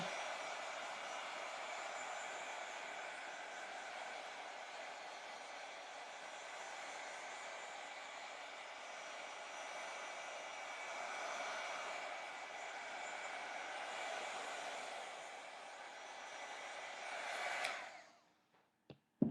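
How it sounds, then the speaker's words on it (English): A heat gun drying a steampunk spellbook craft project gives a steady, close, loud airy whoosh for about seventeen seconds, then clicks off and falls silent. "I use this heat gun for so much more than just embossing"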